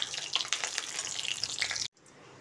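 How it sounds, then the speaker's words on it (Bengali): Dried red chilli and whole cumin seeds frying in mustard oil in a pan, making a steady crackling sizzle close by that cuts off abruptly near the end, with no talking. "ফোড়নটা এবার কয়েক সেকেন্ড ভেজে নিচ্ছি।"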